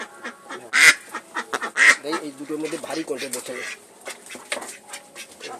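Ducks quack loudly in a couple of sharp bursts near the start as people buy them, followed by closer conversation between people with more quacks underneath.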